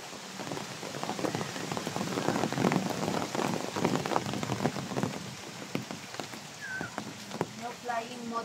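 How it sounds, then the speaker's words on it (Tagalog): Rain falls steadily on a forest hiking trail at Bukit Timah, a dense patter of drops striking leaves and ground at moderate loudness, with occasional faint voices and a bird call near the end. "As in, umuulan na talaga."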